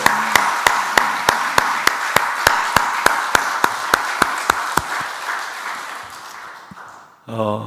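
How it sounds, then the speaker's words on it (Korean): A church congregation applauds during a service. Steady, rhythmic clapping sits close to the microphone over broader crowd applause, then fades, and a voice begins speaking at the end. "우리 큰 박수 한번 합시다"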